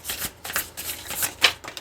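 Tarot cards shuffled by hand during a pick-a-card reading, a quiet, close riffling and flicking in several short bursts with no talk over it.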